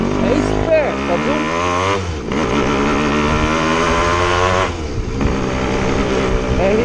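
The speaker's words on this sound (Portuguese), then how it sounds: "RD original é massa demais. O barulho do escape é o melhor pra mim." An original Yamaha RD two-stroke motorcycle exhausts loudly up close, its raspy engine note revving up and dropping in a couple of swells, continuous throughout with no talk.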